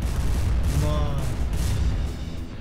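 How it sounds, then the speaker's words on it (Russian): A bomb going off beneath a fortress in Garry's Mod, a deep rumbling boom rolling through the clip over a noisy game background, with talk mixed in. "О, я сейчас бомбу прям внизу тут взорву, где ножки ее."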